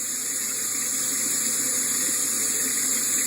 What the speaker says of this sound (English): when you're rinsing your face